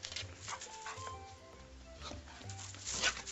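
A dog barks and whimpers faintly outdoors in a vegetable garden, a few short yelps scattered over quiet background noise.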